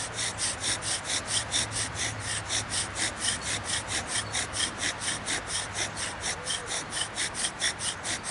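A bow drill spindle rubs back and forth in a wooden fireboard, a rhythmic rasping scrape repeating about three times a second, close and steady, with faint breathing under it.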